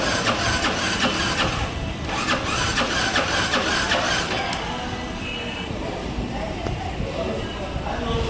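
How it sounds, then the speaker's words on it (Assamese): A Yamaha R15 V4 motorcycle engine runs steadily at idle, a loud continuous mid-pitched drone with a rattling, ticking edge, close by and without speech. "R15ত আজি দেখা মই আপোনালোকৰ ইঞ্জিনৰ চাউণ্ড"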